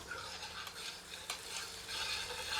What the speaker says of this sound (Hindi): इसे मध्यम आंच पर 1 से 2 मिनट भूनते हैं